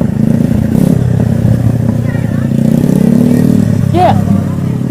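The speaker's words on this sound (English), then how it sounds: "Push it really fast and Ty, put it in gear. It'll start." A three-wheeler ATV engine runs after a push start, its loud steady drone close by and filling the whole stretch, with clatter and a brief squeal near the end; voices can be heard faintly beneath it.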